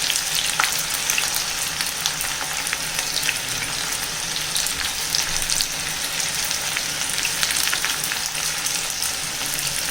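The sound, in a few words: banana stem pieces frying in hot oil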